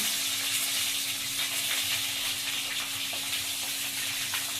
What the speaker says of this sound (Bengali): দিয়ে এটাকে আবার হালকা ভেজে নিতে হবে।